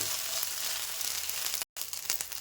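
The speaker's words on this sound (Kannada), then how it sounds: "ಈಗ ಜಿಂಜರ್ ಗಾರ್ಲಿಕ್ ಪೇಸ್ಟು ಫ್ರೈ ಆಗಿದೆ" Ginger garlic paste sizzles in a hot pan with a continuous close crackle, interrupted by a brief cut of silence before the frying resumes.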